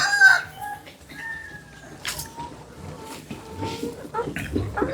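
Chickens in a free-range run cluck steadily while a rooster crows, with calls coming and going across the whole stretch at moderate, fairly close loudness.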